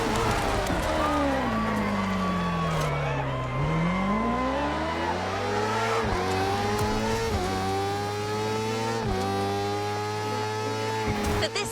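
In a drifting video game, a Toyota Supra engine revs loudly and steadily, its pitch dipping and climbing through gear changes and slides around a lighthouse course, with tire noise and a voice talking underneath.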